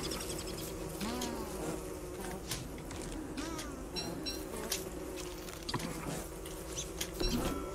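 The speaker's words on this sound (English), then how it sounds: "This is a killer bee field, actually." Killer bees in a video game buzz in a dense, continuous swarm drone with overlapping wingbeat whines rising and falling, steady and fairly loud throughout.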